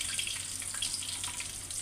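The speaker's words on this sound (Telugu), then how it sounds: "నీళ్ళు వస్తున్నాయి." Water gushes steadily from a tap in a home kitchen, a constant broadband splash with no talk over it.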